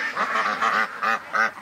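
Close, loud quacking from ducks trapped in a barn, several calls in quick succession within a short burst.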